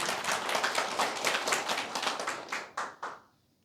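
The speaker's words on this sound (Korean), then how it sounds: "박수해야지. 박수." Brief burst of clapping from a church audience during a sermon, dense hand claps that thin out into a few final separate claps before stopping.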